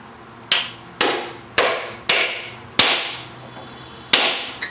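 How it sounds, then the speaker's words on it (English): A very sharp chisel is struck to cut through a hose, giving six crisp, loud hammer-blow impacts at uneven intervals, each ringing briefly before fading. "we like to just take a couple whacks with a real sharp chisel. Goes right through the hose."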